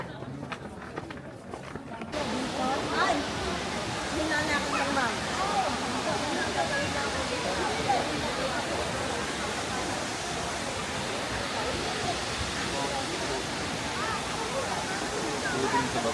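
A man-made waterfall at a cafe on Nami Island, Korea gives a steady, loud, broadband rush of falling water that fills the scene, with people talking at the start before the roar takes over.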